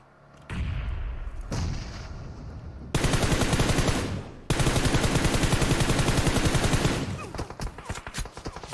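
Rapid automatic gunfire in the mobile battle-royale game PUBG Mobile, loud dense bursts of repeated shots, a short volley then two long sustained strings of fire, with brief quieter gaps.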